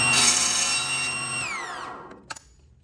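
A power saw cuts angled faces on a wooden mallet blank, a loud steady whine that falls in pitch as the blade slows and stops, followed by a couple of faint knocks.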